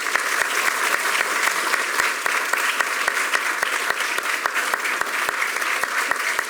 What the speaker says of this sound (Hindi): उनके स्वागत में बहुत सी तालियां बजाएं